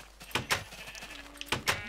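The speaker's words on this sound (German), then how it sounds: "Dann schälen wir nochmal schnell die Schafe" Minecraft sheep bleat in short, nasal bursts, a few separate calls spaced apart at close range, with quiet game sounds in between.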